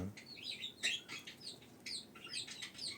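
Rapid, high chirps and warbles from budgerigars, chattering continuously and fairly close, with no talking.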